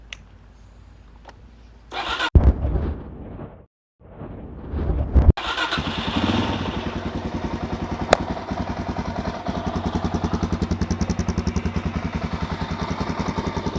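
A Suzuki DRZ400 motorcycle with a newly installed IMS aftermarket desert fuel tank cranks briefly, stalls, then catches and settles into a loud, steady, close-up idle.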